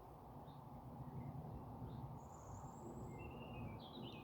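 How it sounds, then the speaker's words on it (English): Robins twitter and sing faintly in a quiet evening woodland, with short scattered high calls over a steady muffled rumble of distant road traffic filtered through the trees. "You're twittering songs of robins"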